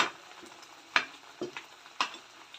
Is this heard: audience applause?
no